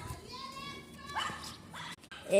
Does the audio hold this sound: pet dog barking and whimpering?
yes